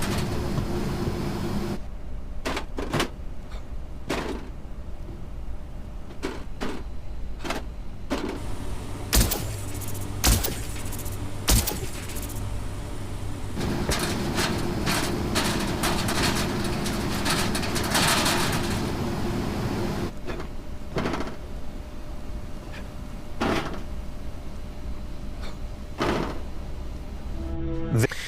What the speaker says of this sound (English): a few examples of the character jumping up and down on grates